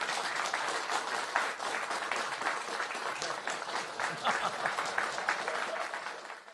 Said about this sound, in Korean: 그 높은 지지로 확보한 대통령께 축하의 박수를 드립니다